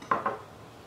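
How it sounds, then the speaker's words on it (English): A spoon stirs an aloe vera face toner mixture in a container, giving two quick close clinks followed by a soft fading ring. "Stir well"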